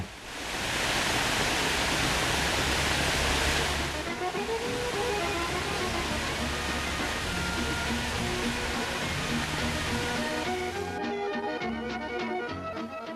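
Steady rushing water of the Jordanne river roars loudly and continuously as it spills over its cascade in Aurillac, with some faint tonal sounds creeping in toward the end.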